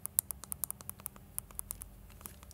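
Buttons on a standard Nintendo Switch pressed close up, giving a quick series of faint, sharp clicks with small gaps between presses and no voices.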